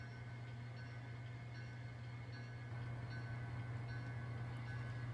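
An N scale model train runs with a faint, steady electric hum and a low motor drone, while soft, light chiming clicks repeat at intervals.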